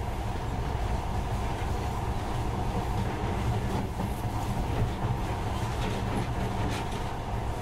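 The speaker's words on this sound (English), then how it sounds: "this monorail seems magic, doesn't it?" A monorail train runs in the video game Metro Last Light, giving a steady, continuous rumble and rattle of rail travel that stays even and fairly faint throughout, with no talk.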